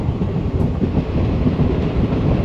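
The Mysuru–Talaguppa Intercity Express runs along the track, a loud, steady low rumble of the moving train heard from on board, with no talking.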